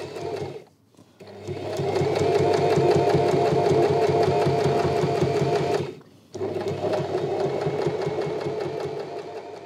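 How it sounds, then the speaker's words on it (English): A sewing machine stitches the fold of a washable cloth face mask, running in a fast, steady mechanical whir with a brief stop near the start and another pause around six seconds before resuming. "either hand stitch or use a sewing machine to sew the material along the fold."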